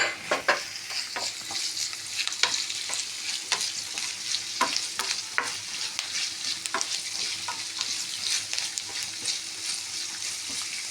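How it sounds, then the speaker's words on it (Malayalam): Curry leaves, garlic and a piece of ginger sautéing in hot oil in a pan for Kerala chicken and raw banana fry curry, a continuous crackling sizzle broken by regular sharp scrapes of a spoon stirring. "വെളുത്തുള്ളി, ഒരു കഷ്ണം ഇഞ്ചി നമുക്ക് വാട്ടി കിട്ടും."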